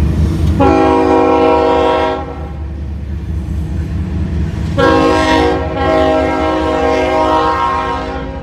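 A train horn blares in two long, loud blasts close by, separated by a pause, over the steady rumble of rail cars rolling past in a rural East Texas town.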